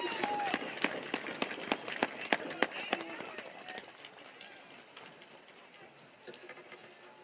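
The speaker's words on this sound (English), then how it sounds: "Please give our special guest standing here beside me one last round of applause." A crowd at a chilly outdoor high school football game between the Hutchinson Tigers and Rocori Spartans claps for a special guest: sharp, loud claps over the first few seconds, then thinning and fading to quiet murmur.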